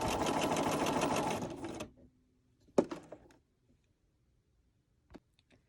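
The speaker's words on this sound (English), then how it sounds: "Put your needle down into that intersection and sew only until the next intersection and stop." A sewing machine stitches quilt diamond pieces in a fast, steady run, then stops; a few soft clicks and handling taps follow in near silence.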